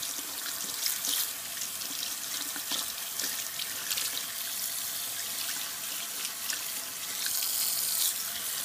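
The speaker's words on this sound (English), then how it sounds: "I just turn on warm water and I let it heat up" Warm water runs steadily from a tap into a sink, a continuous close splashing hiss with slight surges and no voices.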